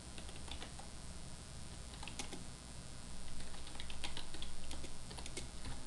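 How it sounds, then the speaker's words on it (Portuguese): Fast, irregular typing on a computer keyboard while entering names into a form, with close, clicky keystrokes over a steady hum, getting a bit louder toward the end. "digitar alguns nomes."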